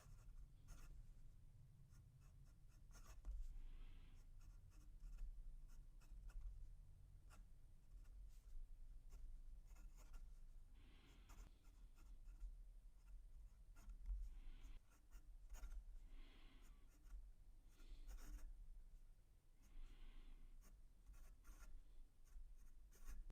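A large Ranga Model 5 fountain pen with a medium Jowo steel nib scratches softly across paper, a faint continuous close-up scribble of strokes and small pauses in a quiet room.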